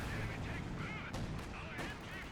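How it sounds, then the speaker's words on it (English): An anti-tank gun fires in the World War II strategy game Company of Heroes 2, as two sharp booms a little over half a second apart under a backdrop of battle noise and talk. "Here, AT gunshot."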